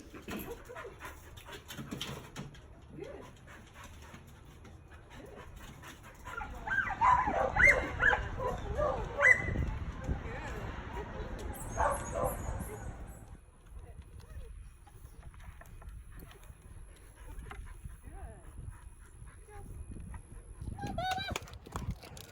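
A dog pants and gives a few short barks amid scuffling and movement as it climbs and walks on unusual surfaces during a temperament screening, with people talking nearby and a faint high tone in the background.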